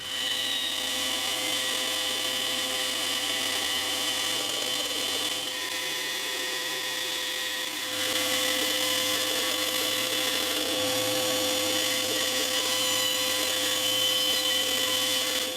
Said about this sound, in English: I'll cut to this line and then fine sand it down